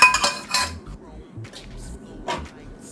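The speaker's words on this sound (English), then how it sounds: "I'm gonna add my macaroni to the pot." Dry macaroni pasta tipped into a metal pot on a switched-off stove for bacon mac and cheese, giving a few bright clattering clinks near the start, then scattered softer rattles and taps.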